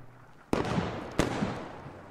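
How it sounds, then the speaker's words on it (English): A grenade goes off in a first-person shooter game, two sharp close bangs about two-thirds of a second apart, each trailing into a crackling, decaying rumble, with no voices. "Here comes the grenade. They're tossing grenades."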